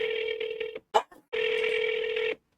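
Telephone keypad dialing tones while calling a company's investor relations line: a steady tone, a short burst of quick presses, then another long tone, clear and close with no talk.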